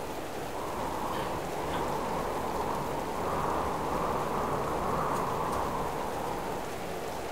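Steady rain falls in the survival video game Subsistence as darkness sets in, a constant even hiss of drops with no breaks across the whole stretch.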